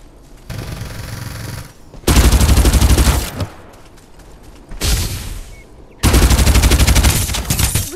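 Rapid automatic gunfire from the Farlight 84 battle-royale game, loud bursts of sustained machine-gun fire in several blocks with short pauses between them, close and dense with no talk.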